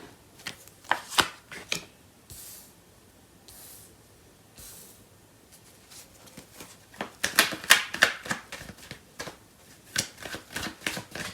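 Tarot cards being shuffled by hand, with quick soft riffling and sliding bursts near the start and a longer flurry later, close and fairly quiet with pauses between.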